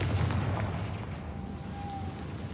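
A Confringo blasting spell goes off in Hogwarts Legacy as a single deep, rumbling boom that opens loud and decays into a low, noisy roar over a couple of seconds.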